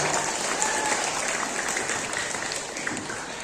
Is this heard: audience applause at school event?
yes